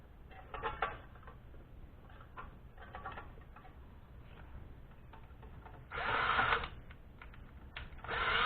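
A power drill drives self-drilling, self-tapping screws through sheet metal while a tin bench for a Case IH 7250 is assembled, short whirring bursts separated by pauses, the last bursts louder and longer.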